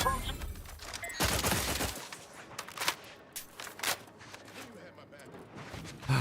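Bursts of rapid gunfire from weapons in The Outer Worlds 2 crackle in quick volleys, loud at first and then in scattered sharp shots, with occasional footsteps and a voice under the action.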